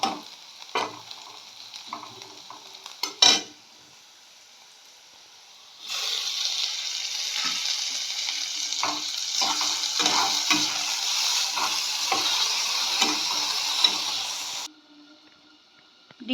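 Egg chowmein is stirred in a hot pan over a gas flame, a sustained sizzling hiss layered with repeated scraping and tossing knocks. Quieter clatter of utensils comes before and after the frying burst.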